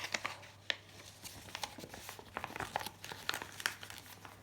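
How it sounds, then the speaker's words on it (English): A sheet of paper crinkles and crackles as it is folded into a paper boat, soft scattered creases and rustles, close and quiet. "you just fold it like that"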